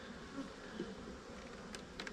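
Honey bees buzz steadily around a heavy brood frame lifted from a hive in a beeyard, a low, close, continuous drone with a few louder passes near the end.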